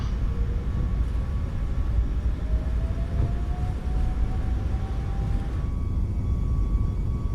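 Steady, loud roar of the iFly 737 Max 8's engines spooling at takeoff thrust in MSFS 2024, a dense continuous rumble with a faint rising whine running through it, heard alone.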